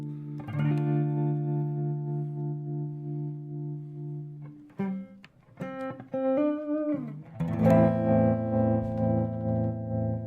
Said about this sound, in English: it's a very bouncy trem